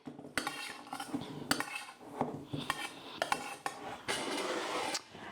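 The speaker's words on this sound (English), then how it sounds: "I'm going to take my spoon over here and I'm going to toss this around really good" A spoon tosses shrimp around in a flour mixture in a bowl, giving repeated close scraping clinks and taps in an irregular rhythm, with no talking.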